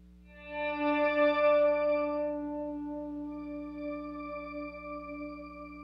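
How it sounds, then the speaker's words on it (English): A sustained, mellow acoustic guitar chord swells and lingers in a dark, washy reverb set fully wet with a darker tone, with little dry attack and a long, soft tail. "The mix level is set so that none of the dry signal is heard, only the reverb."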